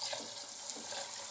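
Water running into a bucket of carp fishing bait mix with hemp seed, a quiet steady splashing pour with no talking.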